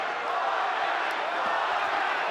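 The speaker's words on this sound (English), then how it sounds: "Quite a Vargas crowd here" Boxing arena crowd at a Shane Mosley vs Fernando Vargas rematch, a loud, dense, continuous roar of cheering fans filling the hall without pause.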